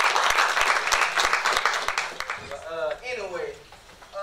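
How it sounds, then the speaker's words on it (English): An audience gives a round of applause, rapid dense clapping for about two seconds before it fades out under a speaking voice. "Everybody give Dr. J a round of applause."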